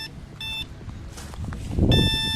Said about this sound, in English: It is just a 5 or 12 volt buzzer, and this is how it sounds.